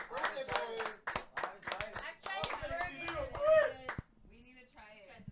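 A short burst of hand clapping at a casual podcast-style gathering, several quick claps over the first few seconds, mixed with overlapping talk and laughter before fading to quieter voices.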